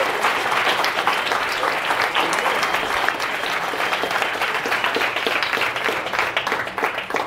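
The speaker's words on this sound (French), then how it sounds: "Je vous demande une bonne main d'applaudissement" A large crowd at a lecture applauds steadily, loud and sustained, dense clapping filling the whole stretch without pause.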